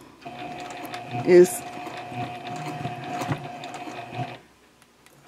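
A sewing machine stitches toward the mitered corner of a project bag, a steady close mechanical hum with a brief louder clatter early on, then stopping, while a person speaks briefly over it.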